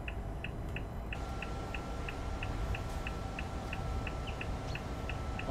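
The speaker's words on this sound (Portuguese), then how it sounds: "som do passarinho, tá vendo?" Repeated short bird chirps from the ambient soundscape of Euro Truck Simulator 2 on the ProMods map near the Spain–France border, steady and evenly spaced over a constant low truck engine drone, with no talking.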